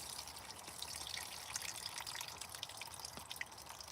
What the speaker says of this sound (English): let's drain the rice off